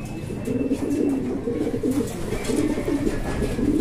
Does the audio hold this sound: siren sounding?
no